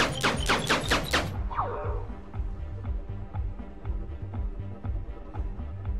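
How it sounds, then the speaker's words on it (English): A turret in the game Eden Star fires a quick burst of rapid, evenly spaced gunshots, followed by a steadier run of softer repeated shots over a low rumbling game soundscape, with someone talking over it. "This turret is getting quite a workout down here."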